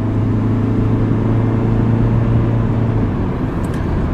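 A 1998 Honda Civic being driven on the road, its engine a steady, loud low hum with continuous road and cabin drone and no talking.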